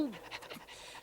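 Cartoon dog panting in quick, breathy rhythmic puffs, faint and brief, with a voice sliding in at the very start.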